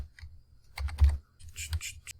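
Quick bursts of typing on a computer keyboard, several clusters of close key taps with short pauses between them, no voice over the clatter.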